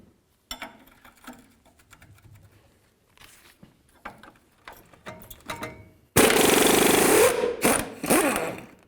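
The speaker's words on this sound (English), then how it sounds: "let's hold the bolt side with a wrench and then remove this nut" A wrench or ratchet works on a rear shock absorber nut of a 1999-2007 Ford F-250: scattered clicks and mechanical clatter, then a loud sustained burst of rapid ratcheting near the end.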